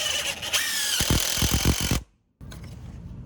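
A power drill whines and squeals as it drives a 4-inch screw, toenailed into wooden stair framing, loud and close, with a rhythmic chatter of bursts, then a sudden cutoff, a short silence and a fainter resumption.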